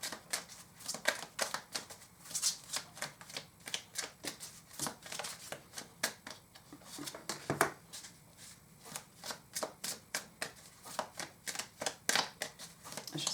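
Tarot cards shuffled and drawn by hand: a steady run of quick, crisp riffling and slapping bursts, close and fairly quiet, continuing throughout.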